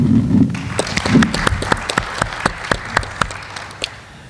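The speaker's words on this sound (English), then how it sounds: "Please join me in a round of applause." A small crowd at a city council candidate debate in Fergus Falls, Minnesota claps in applause, a scattered run of sharp hand claps that thins out and fades toward the end.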